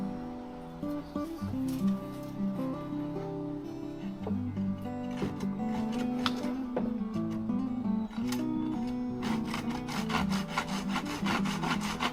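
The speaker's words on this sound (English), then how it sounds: "using a Japanese pull saw here to square up the end of the purlin so that we can get even coverage across" A Japanese pull saw cuts across the end of a wooden roof purlin, producing steady, close rasping strokes with a dense rhythm throughout, heard alone.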